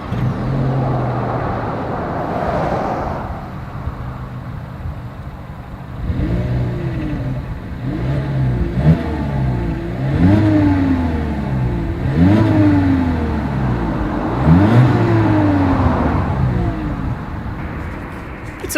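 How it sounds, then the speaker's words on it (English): A Volkswagen Jetta's exhaust idles, then rises through a series of repeated revs, each climbing and falling back in a regular rhythm, close and fairly loud with a low burbling note between blips. "As always, here is that exhaust clip."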